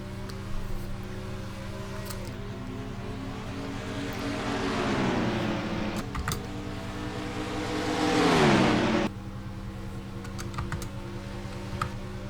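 Race car engines in a racing video game, several revving and accelerating with pitches rising and sweeping past, two loud surges building and cutting off, with faint clicks over a steady engine drone.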